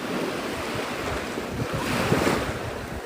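Steady ocean surf rolls onto Navarre Beach, Florida, after a tropical storm, a continuous broadband wash of breaking waves with wind buffeting the microphone, swelling slightly louder toward the end.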